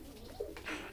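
A Modena pigeon coos once in a loft, a short, close, soft rolling call with a rising burr near its end.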